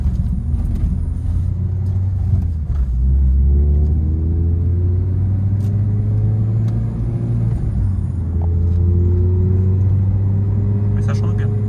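A Renault Clio 3 RS Cup Sport Auto Edition with its 203 hp 2.0 engine revs while driving, a loud deep drone rising and falling through several climbs in pitch, heard from inside the cabin.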